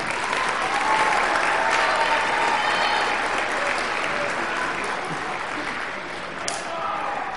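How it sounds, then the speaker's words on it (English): Audience applause at a high school brass sextet performance, a thick, even wash of clapping that holds steady and loud across the whole stretch, with faint voices beneath. "Yeah, that's right, you can clap."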